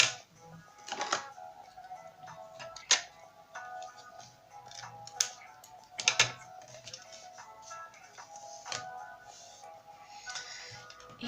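Paper is cut for a handmade Christmas card, giving a run of crisp, close snips and clicks at an uneven pace.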